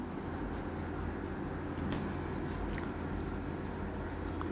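A pen scratches steadily across paper while an answer to an average problem is written out, a soft continuous scraping over a low, constant room hum.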